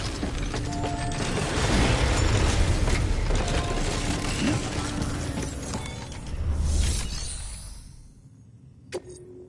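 Suit decontamination machinery in Death Stranding, whirring and clicking mechanical hum that swells and fades, ending with a sharp click after it winds down.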